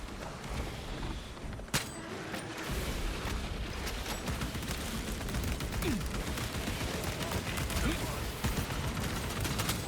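Dense, continuous gunfire and booming blasts from the Warhammer Space Marine 2 video game fill the whole stretch, loud and relentless, with a voice talking over the battle.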